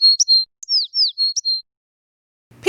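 Bird chirping sound effect with several short, high, clear tweets in quick succession, close and alone, followed by a brief silence.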